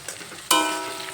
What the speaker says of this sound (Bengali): ঢাকনা দিয়ে ঢেকে আলুগুলো কিছুক্ষণ ভেজে নেব।